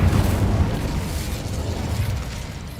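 Incendio fire spell from Hogwarts Legacy, video game, bursting as a loud, low, rumbling blast that rolls on and slowly fades over a few seconds.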